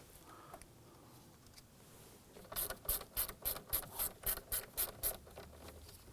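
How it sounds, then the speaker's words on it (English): A stubby ratchet with a small extension loosens screws on a 2015-2020 Ford F-150 steering column, giving a rapid run of about ten crisp, evenly spaced clicks close by with no talking. "I'm just going to use my stubby ratchet, a little extension, and we'll get on in there."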